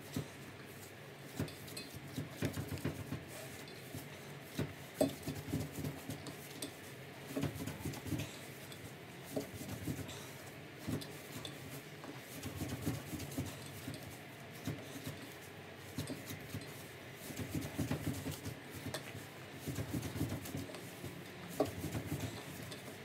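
Çiğ köfte mixture being kneaded by hand in a home kitchen, giving soft, irregular squelching and pressing sounds with occasional light clatter, steady and close throughout with no talking.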